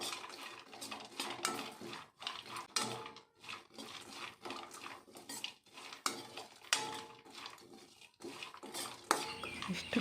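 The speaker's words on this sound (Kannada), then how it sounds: "ಇಷ್ಟು ಫ್ರೈ ಆದರೆ ಸಾಕಾಗುತ್ತೆ ಫ್ರೆಂಡ್ಸ್." Dry fruits frying in a pan for ladu, stirred with a metal spoon that scrapes and clinks against the pan in irregular bursts, with a faint sizzle underneath and brief pauses.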